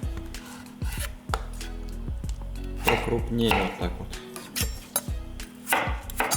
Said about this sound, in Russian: Значит, картошку нарезаем